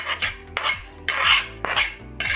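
Utensil scraping and stirring a semolina-poha snack mixture in a pan on a gas stove, with four or five distinct scraping strokes in a steady rhythm, close and moderately loud, no voices.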